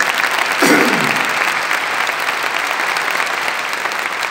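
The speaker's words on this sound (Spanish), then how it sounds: "Un aplauso." An audience at the Madrid Fusion 2019 gastronomy congress applauds, dense, steady clapping from a large hall, loud and sustained throughout with a brief murmur of voices early on.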